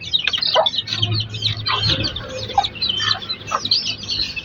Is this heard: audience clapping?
no